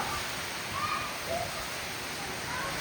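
Rainwater runs in a channel during a cloudburst in a village, a steady, close rushing wash with no break from start to finish.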